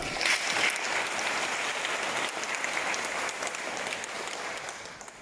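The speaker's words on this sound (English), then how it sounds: "So let us give a round of applause." A congregation at a Eucharist celebration in Nicosia, Cyprus applauds to welcome the Apostolic Nuncio, a sustained, even round of clapping that stays strong throughout and eases slightly near the end.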